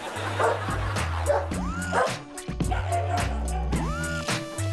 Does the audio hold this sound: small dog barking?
yes